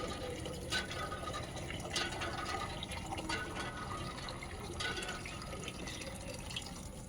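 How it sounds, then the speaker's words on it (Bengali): Water gushing in surges from a hand-pumped tap into a container in a village yard, rhythmic splashing pulses with each pull of the handle, fairly faint and without talk. "এই যে কল টেনে টেনে আমাদের এইখানে সবাই জল নিয়ে যায় এইভাবে।"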